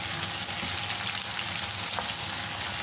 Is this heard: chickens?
no